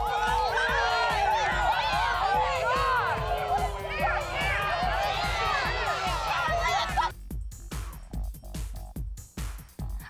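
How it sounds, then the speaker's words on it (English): Spectators at a women's college ultimate frisbee championship final shout and jeer loudly in protest, a clamor of many raised voices that breaks off abruptly, leaving scattered calls and thumps. "The crowd doesn't agree and gets vocal."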